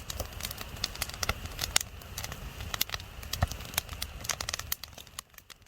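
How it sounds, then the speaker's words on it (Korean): A campfire crackles close by, a dense run of sharp irregular pops and snaps over a soft low rustle, steady for several seconds before thinning out. "이제 눈을 감고 모닥불 소리를 들어보세요."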